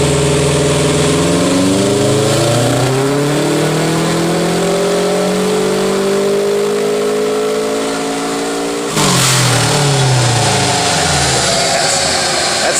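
Tuned 2006 Subaru WRX STI engine revs loudly and close, rising in pitch through a long sustained pull, then drops and surges again with a sharp burst near the end.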